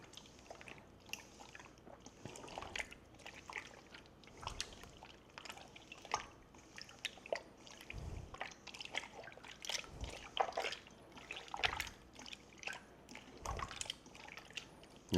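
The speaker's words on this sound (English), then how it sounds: "So stir this around for a moment, get this stuff dissolving" Orange and lime juice marinade for slow roasted pork being stirred, soft liquid sloshing and dripping with occasional clinks, close and quiet, uneven in rhythm, no talking over it.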